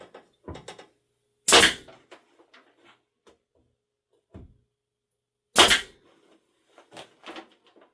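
Pneumatic nail gun firing brads into a segmented wooden frame in a woodworking shop, with two sharp loud bursts spaced a few seconds apart among quieter tool clicks and handling knocks.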